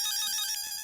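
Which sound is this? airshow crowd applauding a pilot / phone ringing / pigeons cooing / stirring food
phone ringing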